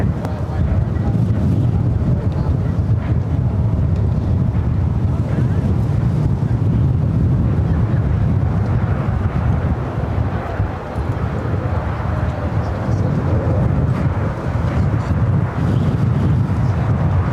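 Strong wind buffets the microphone at LAX, a steady low roar of gusts and rumble that holds loud throughout with no letup.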